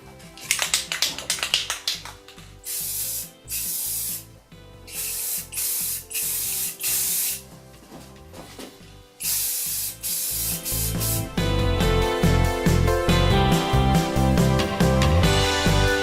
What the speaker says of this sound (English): So let's begin spraying here.